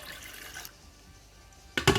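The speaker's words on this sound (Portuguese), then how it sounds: "Coloque água até cobrir." Water poured into a pressure cooker holding chicken thighs and drumsticks with 600 grams of whole potatoes, a brief burst of splashing filling near the end after a quiet stretch.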